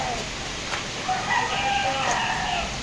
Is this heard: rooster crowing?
yes